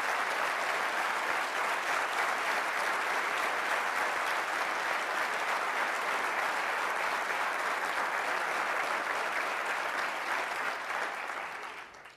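Sustained, dense applause from a press-conference audience after the Ford Fusion is named Motor Trend's 2010 Car of the Year, loud and steady for about eleven seconds before tapering off.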